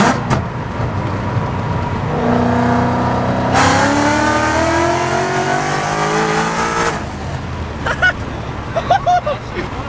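A Mustang's engine revs up hard as it launches, its roar climbing steeply in pitch through the gears before cutting off, followed by indistinct nearby sounds.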